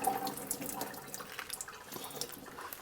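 Water splashes and trickles in a sink as freshly washed goat meat for curry is drained, a soft, uneven stream with small drips and bursts, close and fairly quiet.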